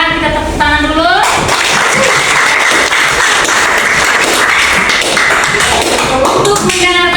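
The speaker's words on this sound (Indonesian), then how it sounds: "Kita tepuk tangan dulu." A classroom of students at an Indonesian lesson on learning styles bursts into loud, dense clapping that lasts several seconds, with voices talking briefly before and after.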